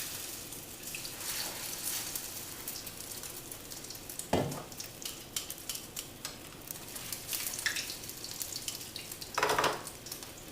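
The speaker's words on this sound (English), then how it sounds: "And then we're going to go straight out of the egg into the hot oil." Egg-dipped chicken cutlets for Chicken Francaise sizzle in hot oil, a continuous close frying hiss with sharper bursts as pieces hit the pan or are moved about.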